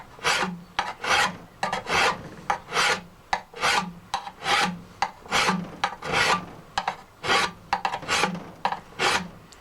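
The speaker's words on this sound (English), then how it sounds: "This is called, like I say, this is called draw filing." Steady rhythmic rasping strokes of a file drawn along a knife bevel, about twenty close, even passes with brief pauses between them.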